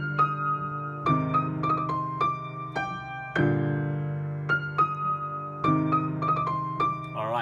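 Solo piano playing a song with the right-hand part an octave higher: a sustained low bass note under a rhythmic sequence of bright chords and melody notes, clear and close with no talk.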